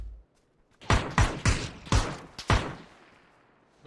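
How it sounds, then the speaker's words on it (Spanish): Gunfire in the PUBG battle royale video game, about six sharp shots in a quick irregular burst, fairly close and loud, each one ringing out briefly before silence. "Dos tiros."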